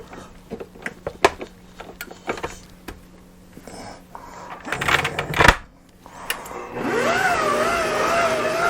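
An electric mixer kneads homemade bread dough on a lower setting: scattered clicks and knocks first, then a steady, fairly loud motor whir with a wavering hum that fills the final seconds.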